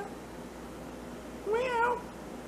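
A cat gives a single short, fairly soft meow lasting under half a second, rising and falling over a quiet background.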